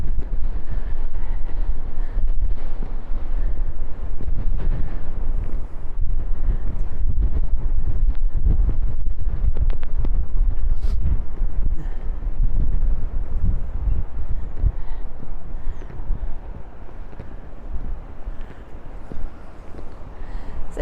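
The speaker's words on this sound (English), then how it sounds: "Oh, that wind's coming back round." Strong wind buffets the microphone throughout a seaside walk in Blackpool the morning after Storm Agnes, a loud low roaring rumble with gusts that swell and ease, steady from start to finish.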